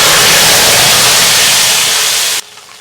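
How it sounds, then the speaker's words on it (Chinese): Hot water poured into sugar caramelizing in a wok gives a loud, dense hiss that holds steady for over two seconds, then cuts off abruptly into near quiet. "冒泡加热水"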